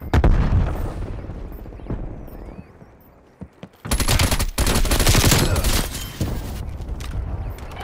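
Gunfire from the Call of Duty: Cold War raid game, a dense, loud burst of rapid shots and blasts after a quieter stretch with a voice, continuing steadily to the end.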